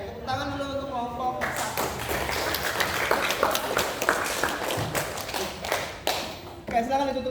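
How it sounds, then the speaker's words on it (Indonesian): Students in an Indonesian classroom clap for a presenting group, a sustained patter of many hands lasting several seconds between brief stretches of talk. "tepuk tangan dulu untuk kelompok"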